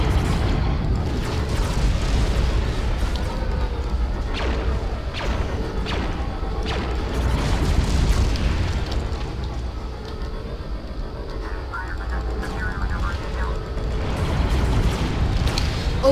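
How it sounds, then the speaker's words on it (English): Bombing runs in Star Wars Battlefront II, with a sustained barrage of heavy explosions, crashes and rumbling booms that rolls on without a break, loud and dense, with no talking. "I'm just gonna bomb the crap out of this."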